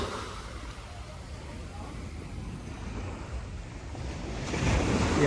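Ocean waves wash in at Kuta beach, a steady moderate surf hiss with some wind on the microphone, building louder toward the end as a wave breaks closer.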